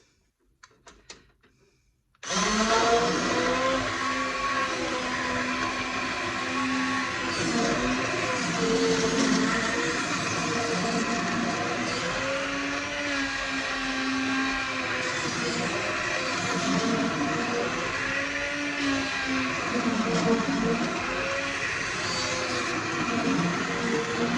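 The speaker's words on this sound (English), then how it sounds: "So I'm going to put the emulsifier in the pot and do this." An immersion blender purees coconut curry squash soup in a pot, switching on abruptly after a few quiet knocks into a loud, continuous whirring drone whose pitch wavers as the blades churn.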